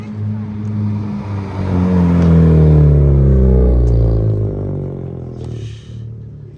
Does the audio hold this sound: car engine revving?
yes